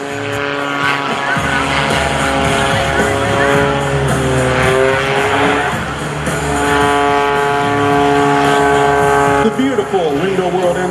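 Rob Holland's custom-built all-carbon-fiber Window World MXS aerobatic plane performs a Frisbee maneuver at an airshow, its engine droning loud and sustained with shifting pitch sweeps, under a commentator's voice.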